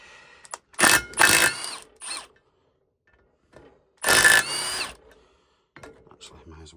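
Power tool undoing Land Rover Defender hub bolts: two loud whirring bursts near the start and another about midway, with ratcheting gear noise and quiet workshop pauses between.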